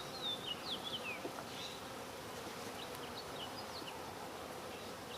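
Honeybees hum softly around a backyard hive on a quarter-acre homestead, a faint, even buzz running throughout while a few thin bird chirps sound in the distance.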